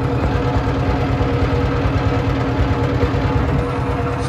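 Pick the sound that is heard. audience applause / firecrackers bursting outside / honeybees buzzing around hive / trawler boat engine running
trawler boat engine running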